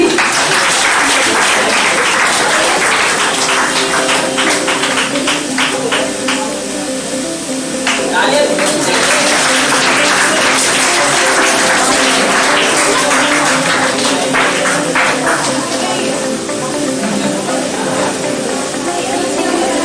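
Loud, sustained audience applause fills a student toppers' award function, a dense wash of claps lasting the whole stretch with steady music running underneath.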